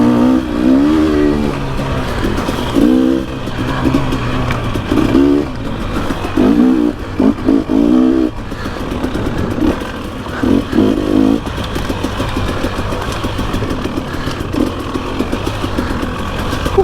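Dirt bikes ripping along Pacific Northwest singletrack, the close engine revving and bogging in rhythmic bursts as the rider shifts and accelerates, loud and continuous with no talk.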